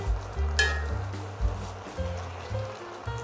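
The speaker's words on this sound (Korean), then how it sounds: "진미채를 넣고 한 번 더, 네, 조금 더 볶아주세요." Shredded dried squid stir-fried in a pan with a little moist sauce for a Korean shishito pepper side dish, giving a soft continuous sizzle with brief stirring scrapes, close and steady, no talking.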